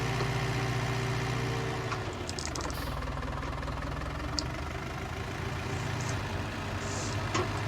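A farm tractor engine runs steadily at close range, a continuous low rumble with a knocking idle quality and a slight shift in tone after a couple of seconds, out in autumn countryside during beet lifting.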